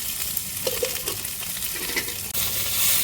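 Okra sautés in a little oil in a pan with a dense, crackling sizzle. Repeated stirring scrapes and clatters are close by, with no speech.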